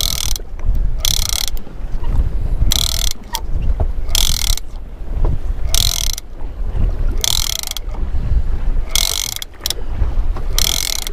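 A tuna fishing reel winds in line during a fight at sea, loud close ratcheting bursts of cranking repeating in a steady rhythm with short pauses between, under faint wind noise and no talking.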